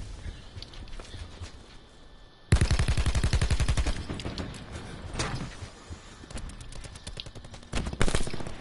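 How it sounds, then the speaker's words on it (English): Gunfire in the Call of Duty Blackout video game, rapid automatic bursts that start suddenly and loudly, with scattered shots and clatter continuing afterward. "They're shooting at each other."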